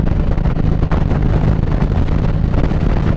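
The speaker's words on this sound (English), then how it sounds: "You can't tell it's windier than all hell right now." Strong wind buffets the microphone during a motorcycle ride on a sunny day, a steady loud low roar with continuous rumbling gusts throughout and no other clear sounds.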